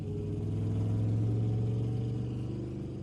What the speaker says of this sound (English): the two men smiled and drove off and disappeared into traffic